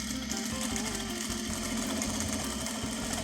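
A sewing machine stitches corset lining with a rapid, steady mechanical chatter close by, running continuously without pause.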